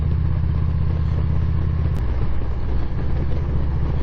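Motorcycle engine droning steadily on a ride, a continuous low rumble with some rattling clatter and wind, loud and close throughout with no talking.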